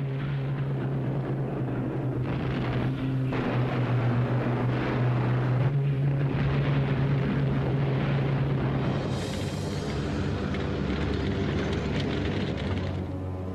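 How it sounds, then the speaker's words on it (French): Allied aircraft and artillery pound retreating troops during the 1944 Normandy campaign, a continuous heavy roar of engines and rumbling blasts with a steady low drone throughout and no clear breaks. "Les avions et l'artillerie alliés vont les matraquer sans relâche."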